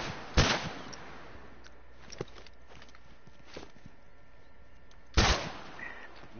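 Rifle fire in The Last of Us multiplayer match: two sharp, loud shots several seconds apart, with faint footsteps and small clicks in between.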